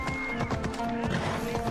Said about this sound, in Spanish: ¡Caballo a la vista!